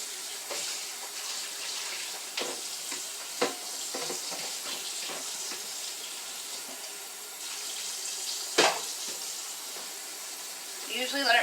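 A kitchen tap runs steadily to rinse carrots, a constant soft hiss of water with occasional clinks and splashes, while a person talks over it.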